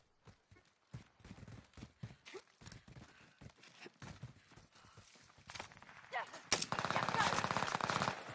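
Video game gunfire in a team shooter with aircraft overhead: bursts of rapid automatic shots and single cracks, close and loud, building to a sustained dense volley near the end, with players talking between shots.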